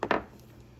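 A knife taps and scrapes twice in quick succession against crescent roll dough on a hard surface, short and close, then leaves only faint room tone.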